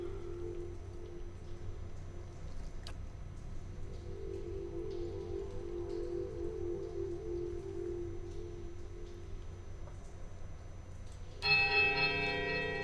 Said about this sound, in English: a sudden dissonant toll sounds from the bells, so loud and piercing that you are compelled to cover your ears